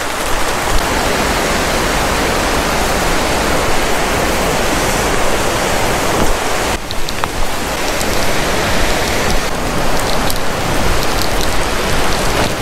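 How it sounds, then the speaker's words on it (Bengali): Heavy rain pours steadily beside the Rishi river at Rishikhola in Sikkim, a dense, constant hiss of drops on surfaces, close and loud throughout, with no voices. "বেশ ভালো জোরে বৃষ্টি শুরু হয়ে গেছে।"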